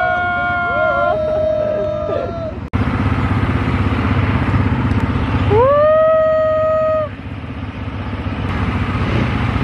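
Loud ATV engine running close by at a sanctuary in Bohol, Philippines, a steady motor drone with a rising rev and pitch sweeps partway through, people chatting over it.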